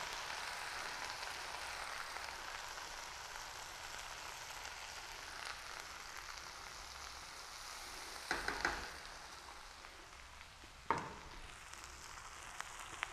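Spices tempering in hot oil or ghee for a gulab jamun curry, a soft steady sizzle and crackle at low level, with a couple of sharp utensil clinks.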